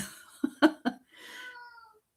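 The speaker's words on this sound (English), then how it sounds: "my cat's talking" A house cat meows close by, a few short chirping calls followed by a longer drawn-out meow, with a voice faintly present.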